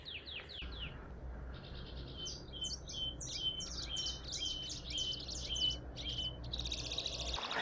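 Small birds chirp in quick, repeated high phrases on a morning walk at a lakeside hotel in Capitólio, Minas Gerais, set over a steady low hum of distant traffic.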